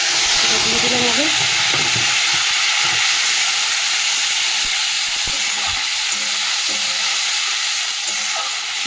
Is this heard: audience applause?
no